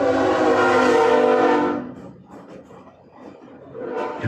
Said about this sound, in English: You can hear the chugga chugga.